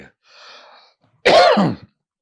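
A single loud, harsh cough bursts out after a faint hum, then silence.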